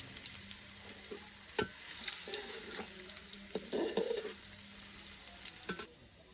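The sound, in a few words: stirring chopped ginger frying in a pan for khichuri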